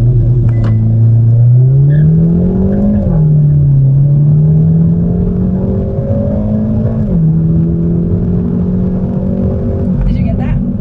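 A 2022 Hyundai Elantra N launches hard, its engine note climbing steadily through gears with brief dips at each shift, loud and close throughout, with occasional voices faint underneath.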